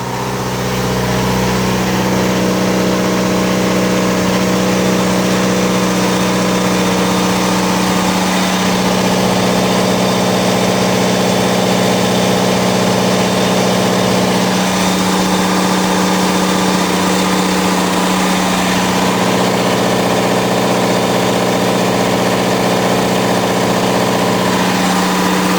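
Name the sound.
Onan DJC generator engine running on gasoline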